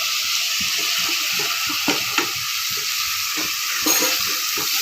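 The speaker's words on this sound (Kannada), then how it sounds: "ಇದು ಸ್ವಲ್ಪ ಚೆನ್ನಾಗಿ ಬಾಡಿಸ್ತೀವಿ ಚೆನ್ನಾಗಿ ಬಾಡಿ" Chopped tomatoes sizzle steadily as they sauté in a pan for mushroom biryani, a bright continuous frying hiss broken by soft stirring scrapes and knocks, close up and without talk.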